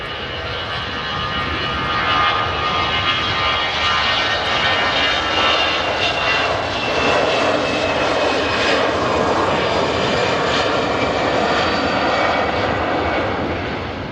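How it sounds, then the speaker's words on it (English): An EasyJet Airbus A319 on its take-off roll bound for Malaga, a sustained, loud broadband engine roar with a slight swell partway through, heard alone without talk. "We've got EasyJet on the roll. Yep, heading off to Malaga, A319."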